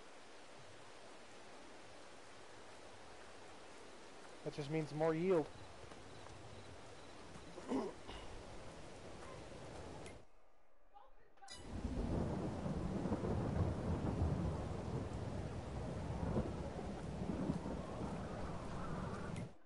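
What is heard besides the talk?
rain and thunder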